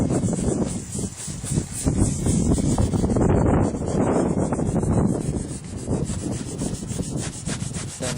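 Toothpaste rubbed by hand across a Freelander's plastic headlight lens, a steady close scrubbing swish that continues without pause.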